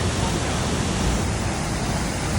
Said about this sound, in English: Made it to the bottom of the waterfall.